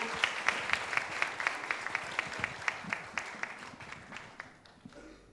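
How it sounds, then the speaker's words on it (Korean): A youth talk-concert audience claps to welcome a speaker to the front, a dense patter of many hands with sharp individual claps standing out, steady at first and then tapering off near the end. "여러분 다시 한번 큰 박수로 우리 김경수 위원장님 앞쪽으로 모시도록 하겠습니다."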